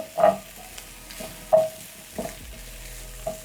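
Coriander and paprika being stirred into a pork stew, giving a few soft scraping sweeps at an even pace over a faint simmering sizzle, close by with no talk.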